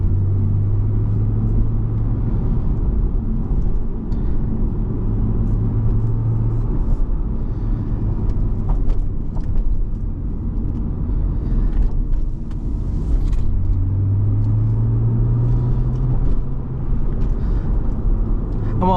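Inside a 2008 Porsche 911 Carrera S Cabriolet (997.1) with a manual gearbox and rear-wheel drive, a loud, steady engine drone and road rumble fill the cabin while driving, with gentle swells in pitch.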